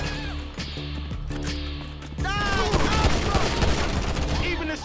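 Dense bursts of automatic gunfire crackle through a shootout in a GTA 5 mission, first mixed with music and then turning into a louder, continuous fusillade with sharp shots and whizzing sounds.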